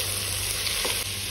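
A spoonful of ginger-garlic paste is stirred in a hot pan for cabbage rice, sizzling steadily and loudly throughout with the soft scrape of stirring and no talking.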